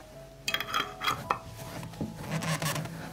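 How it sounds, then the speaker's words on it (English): Sterilized metal lids clink and scrape against glass jars as they are twisted shut, a few quick rattles close by. "I immediately close the jars with sterilized lids."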